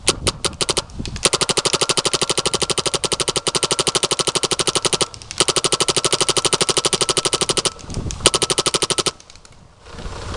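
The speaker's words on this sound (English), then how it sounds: "So we're gonna do a shooting video for you on the Etha." A Planet Eclipse Etha paintball marker fires long, fast strings of evenly spaced shots close up, with a few brief gaps between strings and scattered single pops before quiet at the end.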